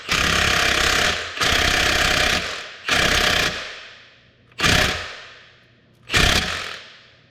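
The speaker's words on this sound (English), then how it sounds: "I marked my impact so it's got lines on it" An impact wrench tightening a bolt on a Cat C13 diesel engine, five loud hammering bursts up close, the first ones longer and the last ones short, with brief silences between them.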